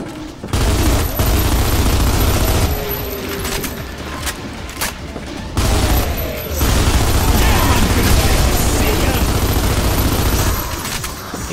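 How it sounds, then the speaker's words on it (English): An auto shotgun fires continuously in the video game Insanity's Requiem, a loud, dense, sustained barrage with only a brief break midway, and a voice speaks over the gunfire. "I'll use a rapid fire weapon before I take care of the crazy auto shotgun. The literal bullet hose."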